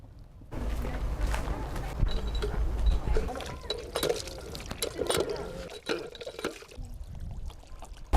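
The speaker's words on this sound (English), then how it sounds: "over here they use water pumps" A hand water pump drawing from a natural source in rural Bani Madi, water gushing and splashing out in uneven pours alongside knocks of the pump, close up with brief quiet gaps.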